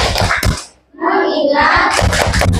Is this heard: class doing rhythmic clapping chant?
yes